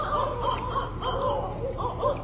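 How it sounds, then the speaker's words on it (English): Barred owl calling loudly in a swamp, repeated hooting and cackling calls in a rapid series, with a steady high insect or background hiss throughout. "Then the owl started going ballistic and woke him up."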